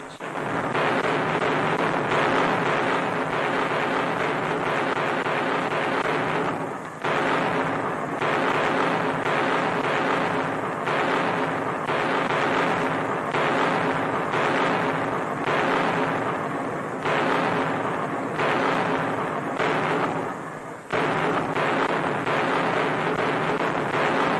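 Allied big guns fire at night during the WWII North African campaign near Tunis, with a dense, continuous rumbling roar of heavy artillery broken by brief lulls, loud and sustained, with no voices.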